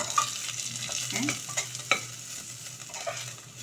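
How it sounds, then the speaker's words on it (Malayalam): Kashmiri chili powder is sautéed in oil in a pan for a Kerala curry. A close, steady sizzle runs throughout, with a spoon scraping and tapping the pan in quick, irregular strokes. "അത് ഇട്ടിട്ടൊന്ന് നന്നായി വഴറ്റി"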